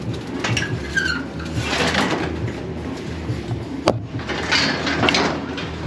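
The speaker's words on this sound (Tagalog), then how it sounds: "papakain tayo ng ating mga alagang ibon" Pet pigeons coo in a loft in a steady soft murmur, joined by a few brief calls and one sharp knock partway through.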